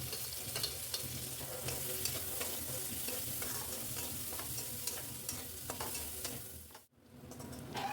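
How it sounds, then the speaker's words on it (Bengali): Cumin seeds, chopped onion, garlic and green chilli frying in oil left from frying prawns, a steady close sizzle with stirring scrapes throughout, briefly cut off near the end before resuming. "কুচনো পেঁয়াজ, রসুন, কাঁচা লঙ্কা ভেজে নিয়েছিলাম"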